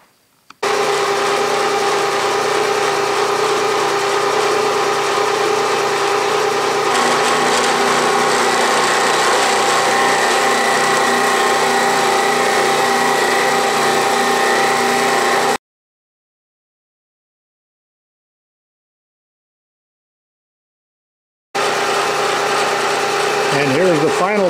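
Milling machine spindle at 1100 RPM taking partial cuts on a metal Aloris indicator holder, a steady loud whine with cutting chatter, cut off into silence before resuming.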